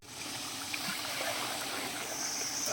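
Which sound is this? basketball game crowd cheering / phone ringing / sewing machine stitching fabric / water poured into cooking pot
water poured into cooking pot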